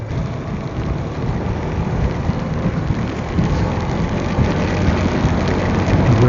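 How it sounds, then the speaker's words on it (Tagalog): Heavy rain pours in a dense, continuous roar, with low thunder rumbling underneath, steady and loud throughout on a mountain loop road ridden on a Honda ADV160 scooter. "Ano naman kasing ulan dito ah."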